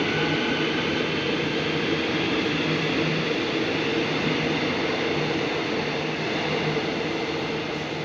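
A quiet airport rail line train at a station in Jakarta at night, heard as a steady broadband rumble and hum of the train that stays loud and unchanging throughout, with no talk.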